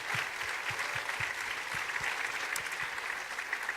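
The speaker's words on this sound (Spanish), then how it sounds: "Vamos a dar un aplauso al Señor." A church congregation applauding during a sermon, a dense, steady patter of many hands clapping at moderate distance, with soft low thumps scattered beneath it.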